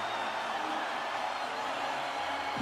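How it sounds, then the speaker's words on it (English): Crowd noise in the NHL 23 hockey video game, a broad, steady roar of arena fans standing and cheering late in a playoff game, continuous and fairly loud. "Listen to this crowd here. Everyone's standing here to appreciate their team."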